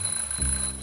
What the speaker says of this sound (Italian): Suona la sveglia e lui si gira dall'altra parte.